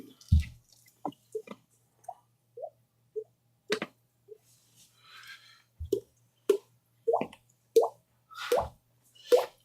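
Single water drops plop one at a time at an uneven, unhurried pace, close and distinct against near silence.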